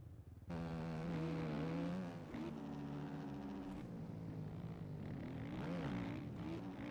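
A dirt bike in the MX Bikes game revs with a loud, buzzing engine note that starts abruptly, dips briefly while the rider rolls off, then climbs again with wavering pitch as the rear tire slides through a corner.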